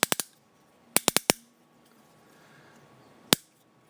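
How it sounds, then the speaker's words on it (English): Ratchet joints on a Transformers Go! Gekisoumaru toy click loudly and sharply in quick bursts of three, then four, then a single click after a pause, all close-up with quiet room tone between. "these ratchets are very loud and very strong"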